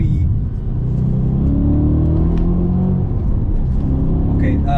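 Audi RS4 B7 with Stage 2 tune and manual gearbox, engine pulling hard through the shift from second to third, a loud, steady close-up drone from inside the cabin with no one speaking.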